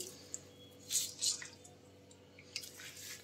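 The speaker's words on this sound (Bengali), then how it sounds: "মূলোগুলো দেখো এইভাবে চিপে চিপে পুরো জলটাকে বার করে নিচ্ছি" Grated radish squeezed by hand to press out its water for radish paratha, faint wet squishes and scattered drips in a quiet room, close and soft.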